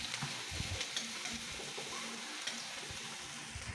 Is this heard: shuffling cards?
no